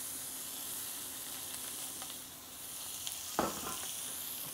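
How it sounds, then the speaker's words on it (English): Steady, loud sizzling hiss of steak searing in a hot skillet, with a brief crackling pop partway through. "Put it in away from you. Listen for that sizzle."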